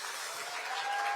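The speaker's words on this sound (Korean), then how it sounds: "박수로 맞이해 주시기 바랍니다" Audience applause greeting a guest speaker at a book concert, a steady wash of clapping held at an even level throughout, with no voices over it.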